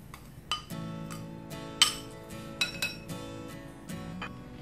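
Utensils stir diced pineapple and ginger with sugar in a bowl, giving repeated light clinks and scrapes against the dish at an irregular rhythm, close and moderately quiet with no talking.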